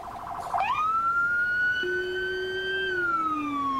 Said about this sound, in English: That's actually the first time I've ever heard a Rumbler siren in Emergency 4.